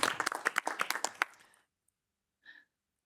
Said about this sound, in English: I should have led with a round of applause.